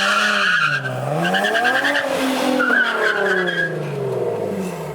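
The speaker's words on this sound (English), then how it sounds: "Steve's doing a stop test real quick with the new big brakes." A Nissan 370Z fitted with new big brakes makes a hard stop and its tires squeal loudly and continuously for about five seconds, the pitch sliding and wavering as the car scrubs off speed.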